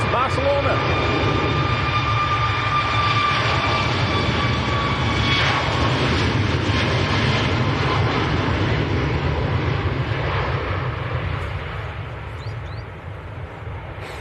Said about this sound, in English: this is a 738 MAX on the roll